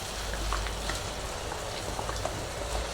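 Tomato masala paste hitting hot oil in a pan for chana masala gravy, a dense, even spattering sizzle with small pops throughout, close and fairly loud, no voices.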